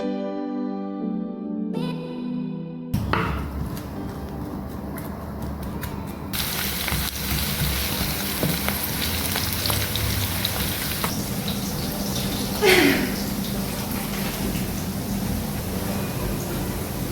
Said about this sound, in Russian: И идем жарить.